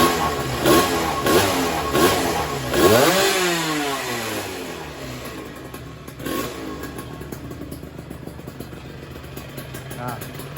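A two-stroke Suzuki Satria motorcycle engine with a small magneto ignition revving up and down in rising and falling sweeps, then settling into a buzzing idle, close by with a voice at times.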